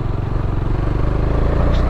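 A single-cylinder motorcycle engine drones steadily while riding on asphalt, loud and close with a rough, pulsing low rumble and wind noise throughout.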